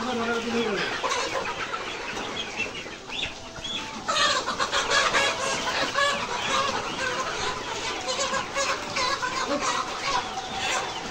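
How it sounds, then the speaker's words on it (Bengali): Layer pullet chickens cluck and squawk in a busy, overlapping chorus as they are caught by hand for sale, with some louder agitated bursts and people talking amid the flock. "আমাদের মুরগি ধরার কাজ চলতেছে।"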